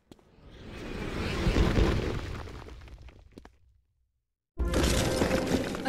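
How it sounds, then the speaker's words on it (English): Obsidian mirror smashing in the fantasy game Wizard101: a loud crashing shatter that swells and rings for several seconds, fades into silence, then a new burst of dense effects noise cuts in abruptly. "A second obsidian mirror smashed?"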